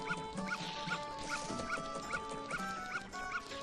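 A dog barks in the Majora's Mask video game, giving a run of short, regular yips over looping game music, close and fairly quiet.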